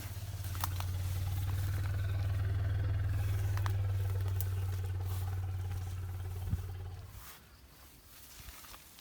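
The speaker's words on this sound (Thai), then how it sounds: "เสียงคำรามนะครับ" A deep, drawn-out animal roar rumbles low for several seconds, then fades, leaving faint rustling and quiet background noise.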